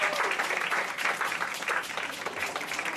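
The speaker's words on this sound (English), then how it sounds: "let's give them a round of applause" A crowd gives a round of applause at a memorial flag ceremony, dense and steady clapping that carries on evenly for the whole stretch.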